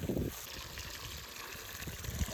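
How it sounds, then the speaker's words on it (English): Water running and splashing in a kitchen sink as arrowroot is rinsed, a steady close trickle with a brief louder gush at the start. "we went ahead and just dumped that out and filled it with fresh water"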